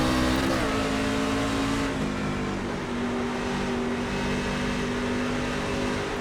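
NASCAR trucks race at Willow Springs in iRacing: a steady, loud engine drone holds under the racing while the pitch shifts a little as the trucks rev and downshift.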